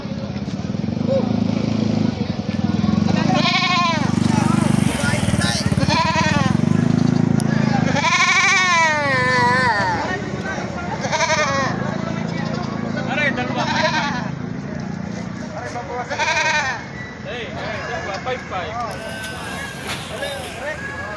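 Goats bleating at a livestock market where cattle and carabao are also sold, several wavering bleats repeating close by over a constant low crowd and engine murmur, with people talking throughout.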